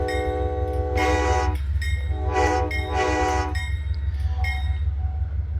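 Custom train horn in the Trainz 2022 railway simulator blares in three bursts, a short one then two longer ones, over a constant loud locomotive rumble and hum.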